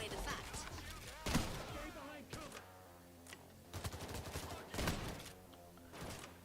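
Gunfire from the Payday heist video game rings out in scattered bursts of sharp shots, moderately loud, mixed with sustained in-game tones and sounds.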